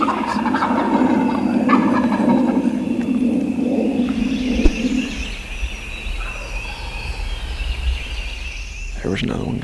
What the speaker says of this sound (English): There was another one gobble.